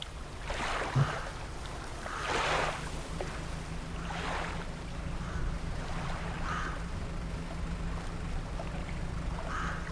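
Fishing boat in the DREDGE video game chugging slowly along on a damaged engine, a low steady hum under soft recurring water swashes, faint and continuous with no talk.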